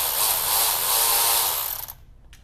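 Loose brake line bolt coming off a 2022 Toyota Tundra, a steady loud broadband mechanical whir like a power tool running for about two seconds, then cutting out abruptly into near silence with a brief faint click.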